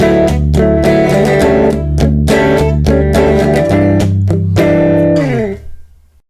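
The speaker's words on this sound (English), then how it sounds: "Tiny box room" An electric guitar plays a busy riff through a Zoom G1 Four multi-effects pedal set to a tiny room reverb, loud and steady with chopped note attacks, then a held chord rings out and fades.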